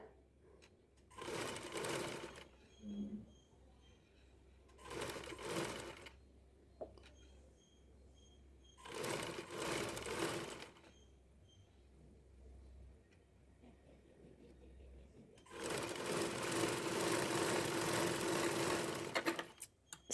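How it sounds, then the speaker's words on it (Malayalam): A sewing machine stitches round neck piping onto a small piece of fabric in four slow runs of close, steady whirring, the last run longer, with quiet gaps between. "അപ്പോൾ പതുക്കെ പതുക്കെ സ്റ്റിച്ച് ചെയ്ത് കൊടുക്കുക."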